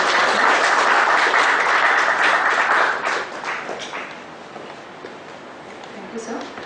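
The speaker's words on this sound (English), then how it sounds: "Big round of applause." Loud, dense applause from a professional seminar audience rings out for about three seconds, then tapers off into scattered, fading claps.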